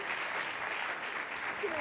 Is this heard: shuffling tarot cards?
no